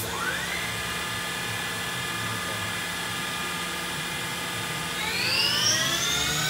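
The spindle of a Mazak VCN530C 50-taper CNC vertical mill runs at high RPM with a loud, steady whine, then spins higher near the end with a rising pitch.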